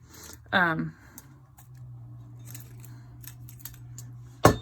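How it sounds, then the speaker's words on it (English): Scissors snip through Bare-Metal Foil for a model kit, one sharp close cut near the start and another crisp snip at the end, with quiet handling in between. "And I am going to cut it"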